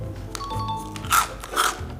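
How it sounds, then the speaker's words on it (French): Two sharp crunchy bites into crisp marshmallow-flavoured cereal, close to the mic, preceded by faint mouth and handling noises. "C'est super croustillant"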